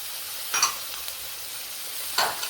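Onions and tomato sauté in a pan for a fish curry, a soft background sizzle broken by two brief scrapes of a spoon against the pan.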